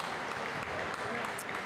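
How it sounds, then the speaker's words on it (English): Team cheering and applauding at a boys high school basketball championship, a busy wash of clapping and voices that continues for under two seconds, moderately loud with some talking mixed in. "Team cheering him on."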